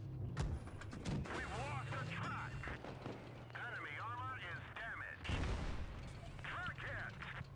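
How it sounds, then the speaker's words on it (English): Tank cannon fire from a medium tank shooting high-explosive shells in World of Tanks Blitz, with booming shots and engine rumble in the game mix while someone talks over it. "That medium one is firing HE."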